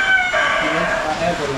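A rooster crows on a farm, one long drawn-out call ringing loud and close, with some background voice underneath.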